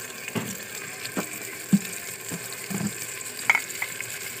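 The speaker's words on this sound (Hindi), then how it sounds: "प्याज ब्राउन हो चुके हैं, अब इसमें टमाटर डालेंगे" Tomatoes frying in ghee with browned onions in a pan, giving a soft steady sizzle broken by a few sharp clacks of stirring close by.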